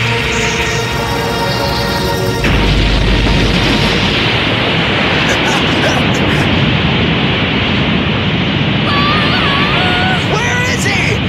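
Karasu's deleterious bomb in a Yu Yu Hakusho anime fight goes off as a loud blast, then fills everything with a long, dense roaring rumble and crackle, with faint voices and tones coming through near the end.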